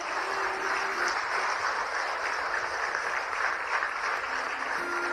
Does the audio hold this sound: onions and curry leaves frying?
no